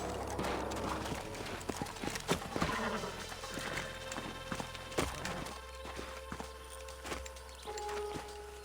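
Rhythmic hoof clatter of horses trotting in the video game Red Dead Redemption, steady clip-clop with an ambient hum underneath; no talking.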